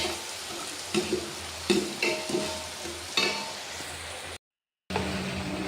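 Tempering for mango dal frying and sizzling in a pan, a steady close hiss with several sharp bursts of crackle and stirring, briefly cut to silence near the end before the sizzle resumes.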